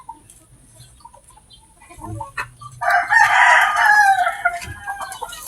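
A young rooster (stag) crows once, loud and close, a drawn-out call rising over quiet farmyard background with a few faint clucks before it.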